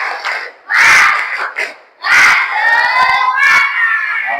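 A classroom of children doing a spirit clap chant: loud, energetic shouting in unison in several bursts, close and crowded.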